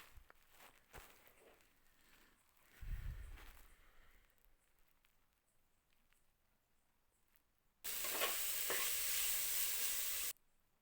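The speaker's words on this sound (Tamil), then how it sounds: "இப்போ நம்ம எடுத்து வச்சிருக்க மசாலாவை உள்ளே சேர்த்திக்கலாங்க இப்போ இதை நல்லா கலந்து கொடுத்துக்கலாம்" Vegetable biryani made with seeraga samba rice, with masala being stirred into the pot: quiet scraping and shuffling, a low thump, then a loud, steady sizzle for a couple of seconds near the end.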